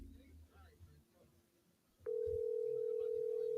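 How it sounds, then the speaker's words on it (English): Ringback tone of an outgoing phone call: after a quiet stretch of faint background murmur, a loud, steady single-pitched tone starts midway and holds unbroken to the end. "I hear it ringing."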